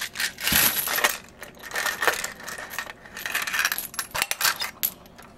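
Rifle rounds spill out of an AK-47 75-round drum magazine in a rapid cascade of metallic clinks and rattles, clattering loudly at first and then in scattered bursts, close up with no talking.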